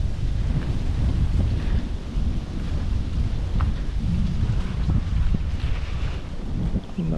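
Steady rain with rumbling thunder falls over flooded paddy fields in Kuttanad, Kerala, with gusty wind buffeting the microphone throughout; the downpour stays broad and continuous, with occasional deeper rolls beneath it.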